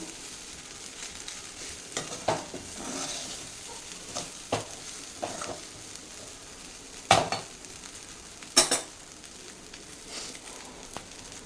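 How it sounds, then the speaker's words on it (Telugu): A spoon stirs and mixes freshly cooked jeera rice in a pan, giving scattered scraping strokes and soft rustles over a faint sizzle, with a few sharper clinks of metal against the pan. "జీరా రైస్ చేసేసానండి. మిక్స్ చేసుకుందాం."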